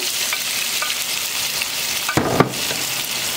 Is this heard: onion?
yes